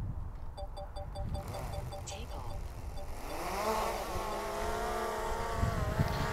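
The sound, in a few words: drone taking off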